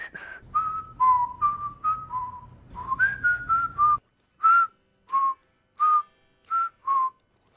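A five-note jingle is whistled over and over in clear, tuneful phrases by several people, with a low background hum at first, then the last few repeats ring out alone as short, spaced notes.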